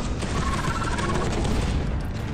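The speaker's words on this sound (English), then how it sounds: "That was an explosion" A loud, dense rumbling blast fills the scene in the video game Space Hulk: Deathwing, a sustained roar of noise lasting a couple of seconds with no voices over it.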